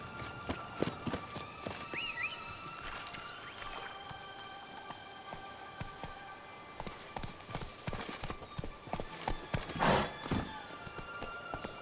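Horse hooves clip-clopping at a steady running gait in The Witcher 3, a continuous rhythmic stream of hoofbeats with a brief whinny-like tone and no talk.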